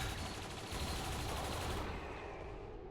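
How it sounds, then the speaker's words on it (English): Cannons fire in the game XCOM 2 War of the Chosen as a dense, rapid burst of booming shots, loud and continuous before tailing off. "Cannons doing cannon things."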